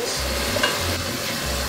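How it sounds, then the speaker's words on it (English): Onions dropped into a hot pan for Japanese curry, frying with a steady close sizzle while a spoon stirs in a few broad scraping sweeps. "now I'll be putting in the onions"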